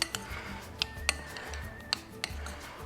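Diced chili and white onion are stirred together in a bowl, with a spoon giving several sharp clinks and taps against the bowl over a soft, steady scraping mix.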